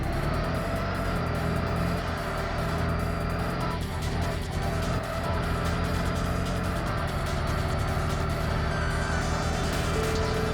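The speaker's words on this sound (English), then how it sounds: "This car just absolutely spins its tires. You can just hear it." Tires spinning and squealing in Tokyo Xtreme Racer Zero, a steady loud engine roar with sustained tire scream layered over it throughout, never letting up.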